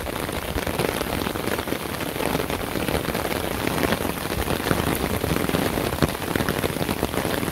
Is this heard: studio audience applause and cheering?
no